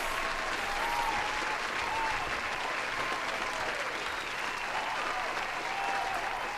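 Steady applause from a crowd, clapping continuously at an even level for several seconds without pause.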